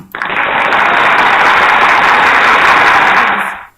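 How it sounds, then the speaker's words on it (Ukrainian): A burst of crowd applause plays as a sound effect in a homemade educational computer game, a dense, loud clapping roar that starts abruptly, holds steady for about three seconds and then fades out. "Аплодисменти"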